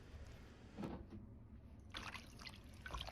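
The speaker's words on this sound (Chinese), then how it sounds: "再倒上多些清水，洗掉鹽分" Water poured over salted king oyster mushrooms in a bowl to rinse them, a faint, close trickle and splash that comes in short bursts.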